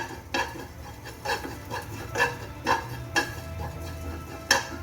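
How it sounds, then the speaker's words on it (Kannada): Spices and ingredients for horse gram saaru frying in a pan, with a soft sizzle under regular, evenly spaced metallic scrapes and taps of a spoon against the pan, close and with no talk. "ಇದನ್ನು ಫ್ರೈ ಮಾಡ್ಕೊಳ್ಳೋಣ"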